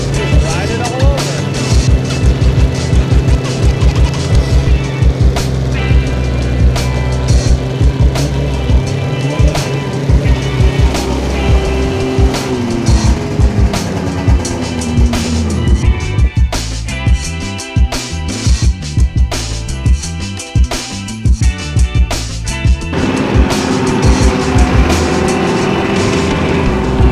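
Snowmobiles ridden in snowy backcountry at the start of the season, a loud steady two-stroke engine drone rising and falling with throttle throughout, close to the rider, with a short quieter stretch midway.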